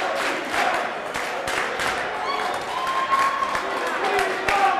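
Wrestling arena crowd at a Ninja Mack versus Dante Leon match cheers and applauds, scattered claps and shouts under a commentator talking over the noise.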